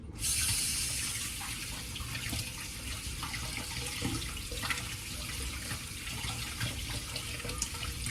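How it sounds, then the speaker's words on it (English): Kitchen tap running while hands are washed, a steady close hiss of flowing water with small splashes and shifts as the hands move under the stream. "Let me wash my hands real quick here."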